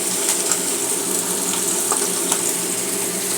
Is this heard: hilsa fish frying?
yes